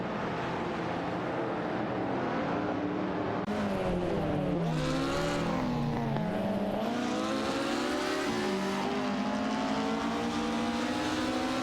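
Porsche race cars roar through a racing video game, engines whining and rising in pitch as they accelerate and shift, layered and continuous throughout with no voices.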